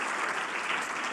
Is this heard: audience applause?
yes